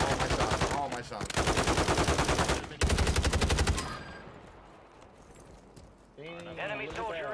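Rapid gunfire from Call of Duty Warzone, dense bursts of shots in quick succession for about four seconds, then a quieter stretch before voices come in near the end.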